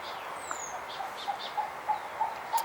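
Birds call outdoors in a quiet open setting, a series of short, evenly spaced soft notes roughly every third of a second, moderately distant over faint background ambience, with no talking.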